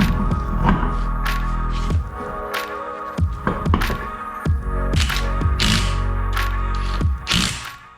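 A car wheel is mounted back onto the brake hub, bringing close metallic clunks, thumps and ratcheting clicks at irregular intervals over a steady low background hum.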